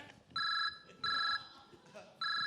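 A telephone rings in bright electronic bursts, three rings each about a third of a second long with short gaps between, loud over faint talking and studio noise.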